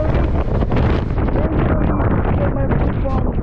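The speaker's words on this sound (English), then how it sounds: "it's so rainy day, and also it's so windy today" Strong wind buffets an outdoor microphone on a rainy, blustery day in the UK, a continuous loud roaring rumble with gusty surges that drown out everything else.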